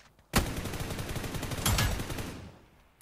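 Gunfire rattles in PUBG New State, a loud sustained burst of rapid automatic shots beginning abruptly, with a second close volley midway before trailing off.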